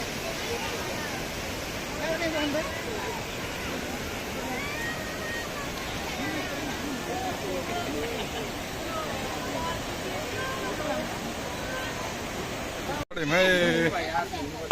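Strong flowing water rushing through a park in Dharan after about six hours of heavy rain: a loud, steady broadband roar fills the whole stretch, with a brief cut near the end and faint voices underneath.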